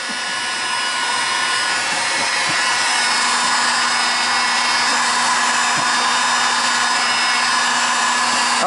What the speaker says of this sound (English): Heat gun is also good for closing the pores in some of the foam.